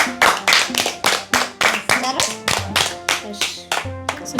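A small family group claps at home for a child during a household game, a close, loud run of even hand claps at a brisk pace with a few voices mixed in.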